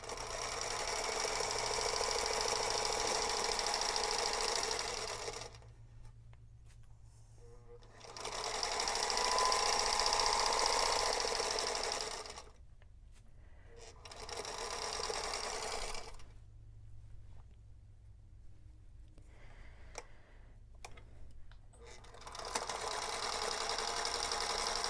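Sewing machine stitching quilt pieces for triangle blocks indoors, running in several long loud bursts with pauses between, a steady buzzing whir that starts and stops.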